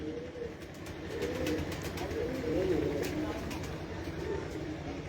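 Pigeons coo softly and repeatedly on a rooftop loft among kept birds, a steady low murmur layered under ongoing conversation and faint background noise.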